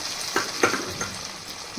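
Hot oil sizzles steadily as spices are tempered, with a few brief crackling pops over the continuous frying hiss.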